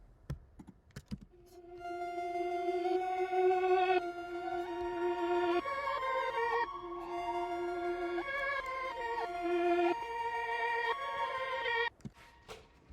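Two reversed sounds layered together in a music production made with Ableton and Pro Tools: sustained, swelling harmonic tones that shift pitch over about twelve seconds at steady loudness, then cut off abruptly near the end.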